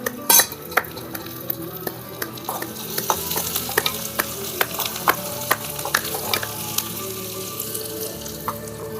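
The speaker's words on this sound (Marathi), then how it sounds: "कांदा चांगला आपण भाजून घेऊया. आपण लाल होस पर्यंत कांदा भाजून घेऊ." Onions fry in a pan while being stirred until browned for dal bhat chokha, a close, continuous sizzle broken by a sharp clatter at the start and repeated light utensil scrapes and clicks against the pan.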